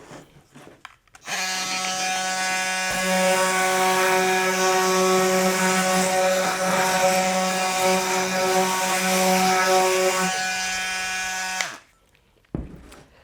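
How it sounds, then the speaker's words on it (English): Milwaukee M12 oscillating multi-tool sanding with 60 grit sandpaper, giving a steady high buzzing whine that runs about ten seconds after a brief start, close and alone, then cuts off. "footage of the tool with the sanding attachment. I have 60 grit sandpaper on it"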